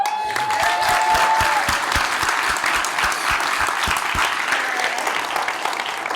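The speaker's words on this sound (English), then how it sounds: "so huge round of applause" At a leadership forum, the audience bursts into loud, dense applause after one-minute pitches, with a brief whistle near the start and a series of heavy thumps under the clapping before it thins out.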